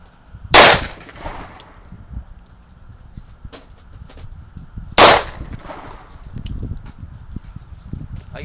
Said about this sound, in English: I'm going to take a third try at firing this weapon